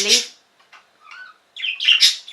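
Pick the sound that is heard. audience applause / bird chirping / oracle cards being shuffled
bird chirping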